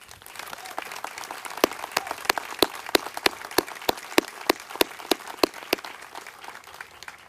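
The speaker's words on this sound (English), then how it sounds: "I would like to just give a round of applause to our Fort Liberty SRU cadre members." Round of applause at a military change of command ceremony, heard as a thin, moderately distant patter of clapping with sharp, evenly spaced louder claps standing out from the crowd.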